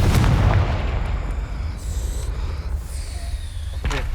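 In the Hogwarts Legacy video game, a Confringo fire spell goes off as a heavy, booming blast at the start, followed by a rumbling roar and fainter whooshing, shimmering magic effects over several seconds, with no speech.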